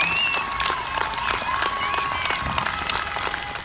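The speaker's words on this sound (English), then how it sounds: "In the UK, a campaign to clap for our carers has gone viral." Steady applause from many people clapping for carers in the UK, continuous and even throughout, with a faint whistle-like tone drifting over it.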